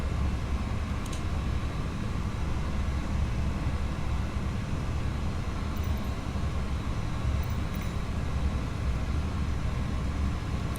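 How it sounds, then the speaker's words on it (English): Airbus A320 engines spool down after arrival in a flight simulator game, a steady broadband roar with low rumble holding constant throughout, no voices. "Engine is running down."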